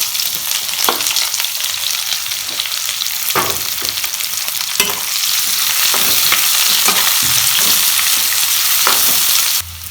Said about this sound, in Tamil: இப்போ இந்த வெங்காயம் ஓரளவு ஃப்ரை ஆயிடுச்சு.